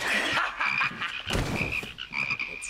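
A person imitates a frog's croaking with a repeated 'ribbit' call, delivered as a steady run of close, loud vocal croaks with no other talk.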